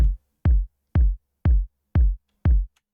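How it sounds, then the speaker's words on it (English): Six evenly spaced, thumpy kick drum hits from a sample pack, low-pass filtered with a shortened tail, each a deep dull punch landing about every half second, alone and close. "Good thumpy kick."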